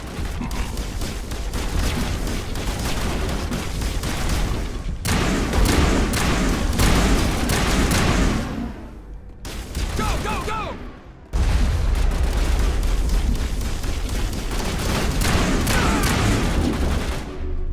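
Rapid incendiary-round gunfire in the Mass Effect video game, loud sustained bursts of shots with heavy booms, pausing briefly twice before resuming at full intensity.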